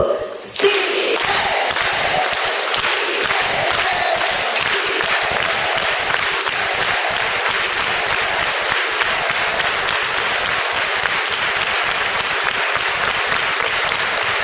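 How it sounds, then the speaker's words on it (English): A large convocation crowd at Mills College claps in an organized, rhythmic unison beat while chanting together, the steady pulse of clapping loud and continuous with voices rising over it. "Let's put our hands up and do an organized hand clap."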